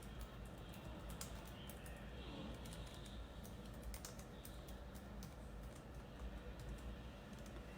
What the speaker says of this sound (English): 1 second as I type this